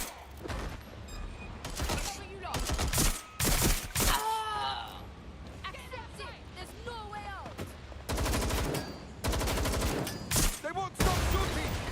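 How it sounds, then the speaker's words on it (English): Gunfire in the video game Watch Dogs Legion comes in sharp, rapid bursts and volleys, loud and close, broken by gaps. Game voices and groans are heard between the shots. "They won't stop shooting!"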